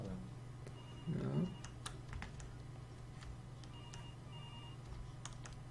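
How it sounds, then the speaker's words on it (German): Telephone ringing in the horror video game Araya, a faint electronic ring under scattered clicking and a brief rustling burst, quiet and somewhat distant. "Das Telefon klingelt."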